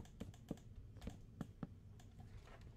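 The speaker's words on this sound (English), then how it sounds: "I am so sorry that this clicking noise is probably really loud" A computer mouse clicks during a Minecraft session on PC: about five sharp, isolated clicks at irregular intervals, each brief and crisp, quiet and close, over a low background hum.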